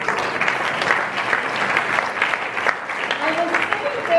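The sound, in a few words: applause from the debate audience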